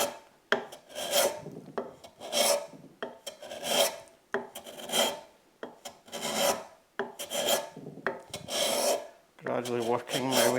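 Hand tool shaving the end grain of a wooden workbench leg with short strokes, giving repeated raspy rhythmic scrapes about every second, close and fairly loud, with no talk.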